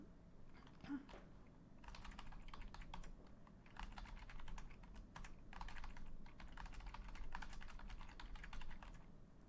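Someone types on a computer keyboard while entering information, soft quick clicking keystrokes in irregular bursts, close and quiet, with no speech.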